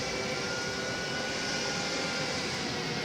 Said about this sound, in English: I'm gonna let you listen to these sounds though. I'm assuming it's 727 sounds